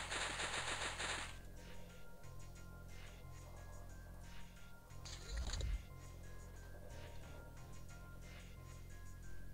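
Rapid bursts of automatic gunfire from the turn-based strategy game X-Com Files, a dense rattling volley followed by scattered shots and a heavy impact, with faint game sounds behind.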